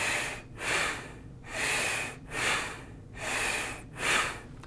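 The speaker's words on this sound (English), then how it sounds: "So that's the Bastrika breathing technique" Bastrika bellows breathing through the nose, a steady rhythm of about six forceful, hissing in-and-out strokes, close-miked and evenly paced with no voices.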